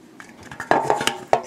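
A polymer clay pie crust is pressed into a metal pie pan, giving a short run of light taps and clinks with a brief metallic ring, close and fairly loud.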